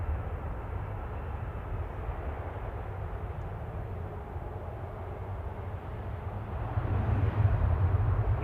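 An ASL Airlines France Boeing 737-800 rumbles at Manchester Airport, a steady low engine roar that grows slightly louder near the end, heard from a distance with no talk.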